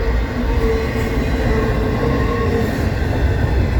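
A Norfolk Southern non-horsehead Dash 9 locomotive leads a foreign stack train past, with a steady loud rumble of engine and rolling freight cars close by and no talk.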